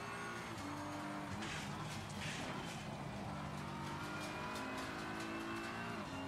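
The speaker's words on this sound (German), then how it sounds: "Und dann hacke ich gleich in die Bremse" Race car engine in the sim racing game Assetto Corsa Competizione, a loud continuous drone with falling pitch as the car brakes hard before a corner, with faint tire noise layered over it.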